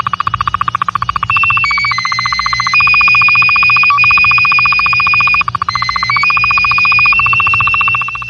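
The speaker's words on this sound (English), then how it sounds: "Slow scan television is a signal used to transmit a computer image." Slow scan television signal received over shortwave radio: a loud, steady electronic whine that steps between sustained pitches, with a rapid buzzing pulse underneath and brief sync chirps, heard alone without any voice.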